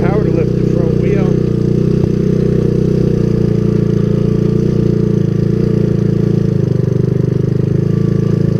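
Honda ATC200S three-wheeler engine idling steadily and loud, a continuous throbbing drone with a faint clickety clack running through it, and someone talking briefly over the start.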